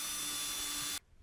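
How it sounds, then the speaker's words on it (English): Power drill boring a hole in green wood to seat a screw chuck for turning, a loud steady whirring drone that cuts off abruptly near the end, leaving quiet room sound. "I'm going to go ahead and drill an appropriate size hole"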